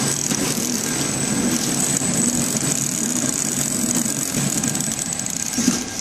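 A remote-controlled packing machine runs after start-up with its anti-cut safety switch on, giving a steady, loud mechanical drone with faint rattle, continuous and unchanging throughout.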